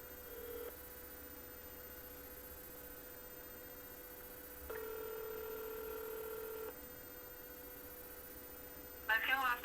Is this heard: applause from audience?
no